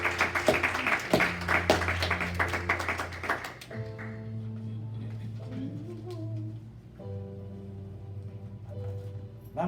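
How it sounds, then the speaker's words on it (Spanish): A church congregation breaks into brief clapping at the start, then the applause fades into sustained organ or keyboard chords, loud and close. "Démosle un aplauso al Señor."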